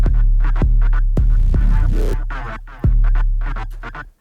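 A gritty grime bass with dynamic EQ on the high mids plays a loud, heavy low line, punctuated by sharp percussive hits, with a raspy, edgy upper bite running through it.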